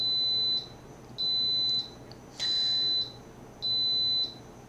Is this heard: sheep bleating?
no